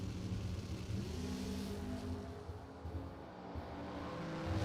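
A 1969 Chevrolet Camaro drag racing car at a drag strip, its engine a loud, steady near roar that swells and holds throughout, with broadband crowd or track noise around it.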